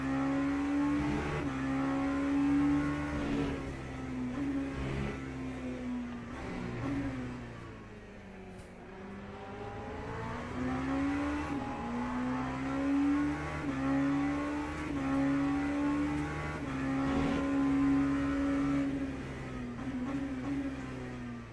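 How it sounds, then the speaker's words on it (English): Race cars from Le Mans Ultimate, LMP3 prototypes overtaking GT3 cars three wide, roar continuously with engines revving and shifting through gears, several cars close together and loud throughout. "With LMP3s overtaking GT3s and being 3 wide."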